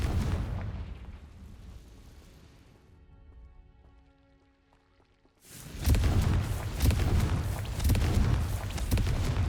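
Confringo fire spell explosion in Hogwarts Legacy, a sudden loud fiery blast that erupts after a quieter stretch of game music and sustains as a dense roaring, crackling burst for several seconds.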